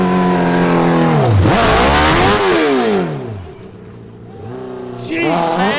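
A Honda N600 micro car fitted with a CBR1000RR superbike engine and no proper exhaust revs hard and loud, pitch sweeping up and down in repeated aggressive blips, dropping briefly before another sharp rev.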